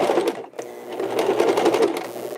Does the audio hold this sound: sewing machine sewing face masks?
yes